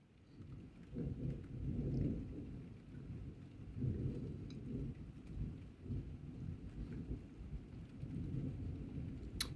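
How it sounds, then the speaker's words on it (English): Heavy rain pours steadily while thunder rolls in repeated low, rumbling swells from a thunderstorm, a dense continuous roar with no voices. "thunder's over that way, the direction we're looking."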